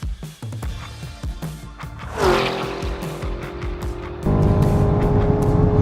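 A Chevrolet Camaro ZL1 accelerates hard on a hot lap at a drag race, its engine roaring up through the gears with rising tones, a brief tire squeal and a loud sustained pull close by.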